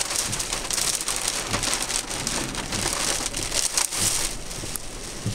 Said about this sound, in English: Oh, there's rain falling.